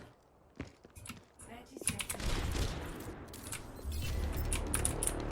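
Rapid bursts of video game gunfire crackle among keyboard clicks, with players talking excitedly over the shooting.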